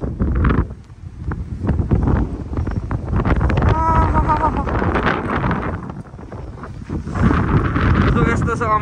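Wind gusting across a microphone during a heavy snowfall at a US bus stop in sub-zero cold, with steady low buffeting throughout and someone talking over it.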